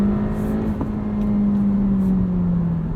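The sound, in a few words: car engine revving during rev-match downshift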